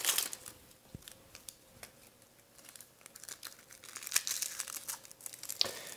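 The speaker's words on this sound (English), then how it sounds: "we're going to cut the onion through the root, like so, and then peel the sucker" Dry onion skin is peeled by hand, giving faint, close crinkling and crackling with scattered sharp snaps over a quiet background, no talk.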